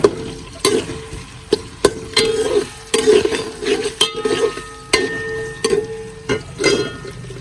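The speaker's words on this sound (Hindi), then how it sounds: "अभी प्याज को थोड़ा सा सुनहरी ब्राउन करते हैं" Onions frying in a pot are stirred toward golden brown: a steady sizzle runs underneath while a spoon scrapes and knocks against the pot in repeated close, sharp strokes.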